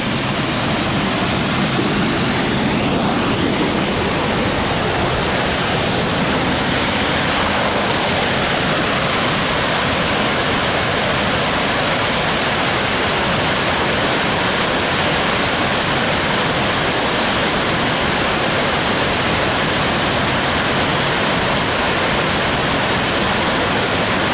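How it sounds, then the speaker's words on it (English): Waterfall on the Lake Superior shore, its water rushing under a bridge in a loud, dense, unbroken roar that holds steady from start to finish, close by, with no voices. "we'll follow the water as it goes under the bridge"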